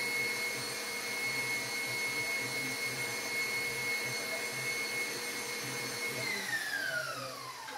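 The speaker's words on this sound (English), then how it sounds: "You want to stop the mixer periodically and just scrape down the sides." An electric stand mixer runs with a steady, even whir that holds level for several seconds, then its pitch slides down as it slows near the end, heard alone without talk.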